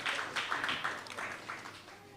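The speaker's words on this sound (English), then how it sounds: "A round of applause for these sponsors, ladies and gentlemen." Audience applause for sponsors at a Father's Day luncheon, a short burst of faint, scattered clapping that tapers off within two seconds.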